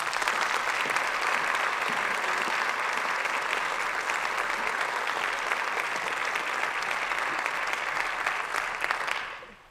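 Audience applause welcoming Dr. Linda Livingstone at the Baylor inauguration symposium, steady and full from start to finish across the hall before tapering off at the very end.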